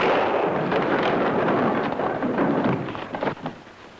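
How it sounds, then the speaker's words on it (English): A gunshot fired from a saloon in an old western serial lands as a loud, heavy, rumbling blast. It rolls on for a couple of seconds before fading away, with no talk over it. "That shot must have come from the saloon."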